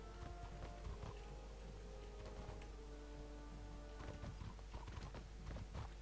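A donkey's hooves clip-clop in the game Mortal Online, a quiet, irregular series of hoof knocks over a low steady hum.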